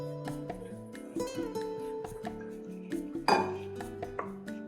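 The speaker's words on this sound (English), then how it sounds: "And you just mix it all together until it goes into a thick paste." A spatula scrapes and clinks against a pot as almonds are stirred into a thick turrón paste, with irregular close metallic knocks and scraping throughout and no talk.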